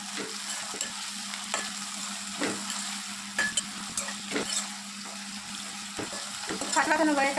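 Oil sizzling steadily in a pan as chicken curry cooks, with repeated spatula scrapes and stirring clatters at irregular intervals, close up, growing louder and busier near the end.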